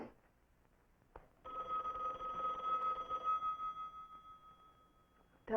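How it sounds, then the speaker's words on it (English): Old-fashioned telephone bell ringing in a quiet room, a steady sustained ring lasting a few seconds after a brief click, fairly close and clear with no talk over it. "Telephone?"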